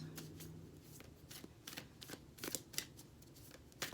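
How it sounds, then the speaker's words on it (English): Tarot cards are shuffled and drawn by hand, producing soft repeated riffling and flicking bursts in an irregular rhythm, close but quiet. "Pulling a lot of cards for this because I want to sort of be able to tell a story with them"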